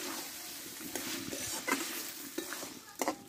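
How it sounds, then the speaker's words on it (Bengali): Pointed gourd and pumpkin curry being stirred in a pan with a spoonful of ghee: a soft sizzle runs underneath while a utensil scrapes and knocks against the pan a few times. "এই ঘিটা দিয়ে আমি কিছুক্ষণ নাড়াচাড়া করে রান্না করে নেব।"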